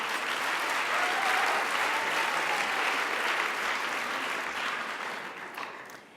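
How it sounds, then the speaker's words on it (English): Audience applause at a Hadassah chapter awards ceremony: a dense, continuous roar of clapping from a large crowd, steady and full throughout, easing off slightly at the end. "A big round of applause and toda rabah"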